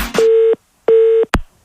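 After a phone call is hung up, the line gives two loud, steady electronic beeps separated by a short silence, followed by a sharp click.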